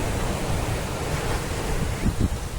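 Surf rolls steadily onto Ezara beach in Kannur, Kerala, a continuous broadband wash mixed with wind buffeting the microphone, swelling slightly near the end.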